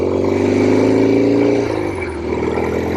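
A 1967 Norton P11 motorcycle engine runs loud and steady beneath the rider, droning at high revs before the pitch dips briefly as a gear changes, then settling again.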